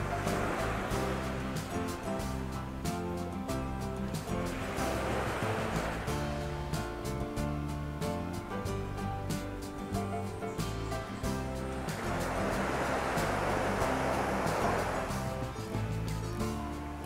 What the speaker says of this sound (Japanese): しばしこの波の音お聞きください。あと鳥のさえずりも聞こえてきますので